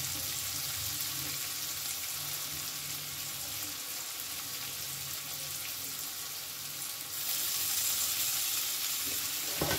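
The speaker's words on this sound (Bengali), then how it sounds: "এবার গ্যাসের ফ্লেমটা আমি লোতে করে চাউমিনটা দিয়ে দেবো আস্তে আস্তে।" Chow mein frying in a pan over a low gas flame, a soft continuous sizzle that grows a little louder near the end, with no speech.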